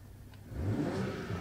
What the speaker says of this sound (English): he can also rev it up a little bit